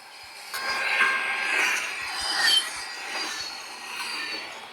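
Steady rumbling of a train rolling along rails in a train and railyard video game, with faint metallic squeal and clatter, continuous and moderately loud with no talking.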